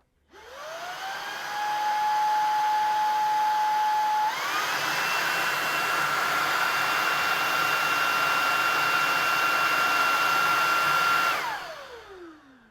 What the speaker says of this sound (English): here comes the boost mode on both of these vacuums.